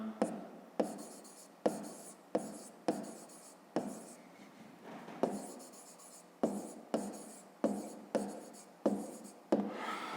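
A pen writes on paper in a school maths exercise, giving close scratchy strokes in short bursts with brief pauses between them, loud and clear with no talking.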